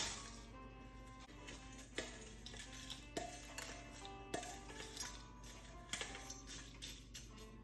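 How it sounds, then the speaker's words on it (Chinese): Ice added to a frosted mint julep cup, giving a series of faint, close clinks and small knocks spaced irregularly over a soft background hum. "然后加入更多的冰"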